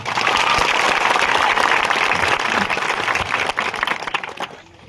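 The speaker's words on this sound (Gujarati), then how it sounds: "આપણે એકવાર જોરદાર તાળીઓ પાડી લઈએ" Loud, dense applause from a large audience at a political rally, sustained for several seconds before tapering off at the end.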